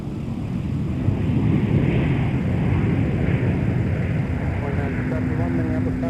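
Airliner engine roar at Minneapolis–St. Paul airport, a steady loud broadband rush lasting throughout, with a faint tonal whine and radio chatter near the end.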